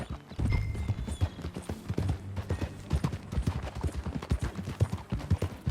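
Horse hooves clip-clop in a steady, fairly loud rhythm during a ride in the Red Dead Redemption 2 video game, with a brief whinny-like sound and low background game noise.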